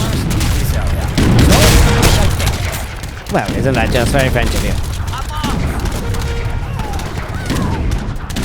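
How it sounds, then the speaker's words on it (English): A barrage of cannon fire in the Age of Empires video game, with heavy booms and rumbling blasts that overlap, under someone talking loudly over the battle. "the effectiveness of all those cannon is a sight to behold, a wonder to see"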